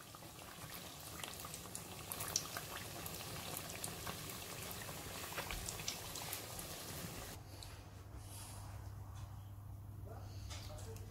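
Nutella-filled beignets fry in hot oil, giving off a steady close crackling sizzle with a low hum underneath, while someone talks over it.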